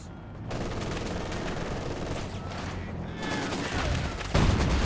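Sustained gunfire from a machine gun team in a Company of Heroes 2 match, dense and steady across the whole stretch, with a heavier burst near the end and no talk over it.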